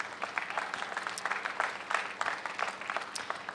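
An audience at a memorial event honoring victims of a December 2019 Jersey City shooting applauds students, a steady wash of clapping hands without pause.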